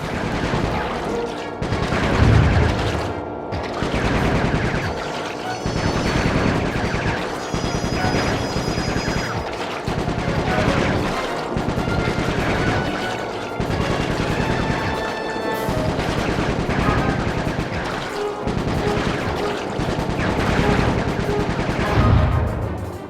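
Continuous rapid gunfire from the Sly 3: Honor Among Thieves video game, with steady bursts of shots and booms rolling on without pause for the whole stretch, loud and close, with no talking over it.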